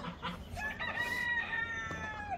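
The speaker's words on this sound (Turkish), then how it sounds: "Hint tavuklarımız arkadaşlar." Turkeys in a farm coop with other poultry, a close burst of gobbling and clucking calls with a crowing-like cry, loud and alone.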